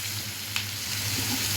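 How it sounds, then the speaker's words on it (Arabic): Potatoes and onion sautéing in a frying pan give a steady, even sizzle up close, with one brief scrape or clink partway through and no speech. "بصوا البطاطس هنشوحها دلوقتي مع البصله"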